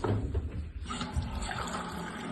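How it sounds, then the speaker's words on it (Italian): Water poured into a pot for pickling sliced eggplant in oil, mixed with vinegar, a steady close splashing fill that runs continuously with no talk. "Adesso devo mettere acqua e aceto."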